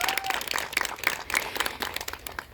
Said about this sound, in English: So can you please clap for yourselves?